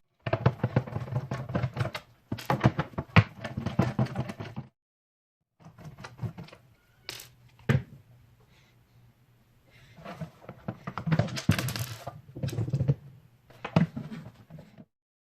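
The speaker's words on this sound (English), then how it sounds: "we're going to flip it over on its back and then undo these screws" Screws being undone from the underside of an NES Top Loader console turned on its back, heard as clustered scraping and clicking bursts with brief pauses between them, close up over a low steady hum.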